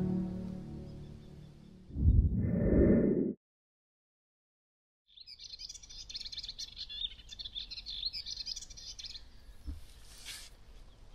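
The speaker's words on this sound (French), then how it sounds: "Les petits oiseaux qui chantent." Small birds sing in a calm morning setting, their chirps steady and moderately near through the second half after a brief loud noise and a pause of silence.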